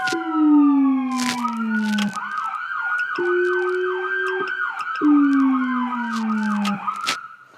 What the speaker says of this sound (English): Now, to show you the sirens that comes with this, with the dual howler and dual sirens